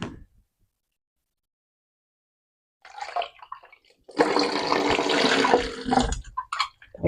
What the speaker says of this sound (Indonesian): Nah kayaknya udah bisa dibilas lagi lah.